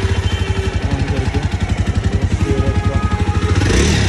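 A motorcycle engine runs loud and close, idling in a steady, pulsing rhythm with some clatter, rising slightly toward the end.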